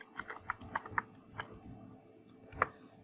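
Typing on a computer keyboard, a short irregular flurry of soft clicks followed by a couple of isolated keystrokes, close and quiet with no one talking.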